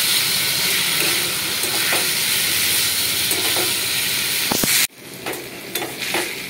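Figs and potato sizzle and hiss loudly in hot oil with occasional stirring scrapes, the steady frying cutting off abruptly near the end to a quieter crackle with a few clinks.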